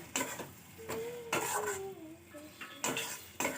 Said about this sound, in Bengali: আলুটা দিয়ে কিন্তু আবারও আমি মশলা আর আলু একসঙ্গে 2 মিনিট ভালো করে কষিয়ে নেব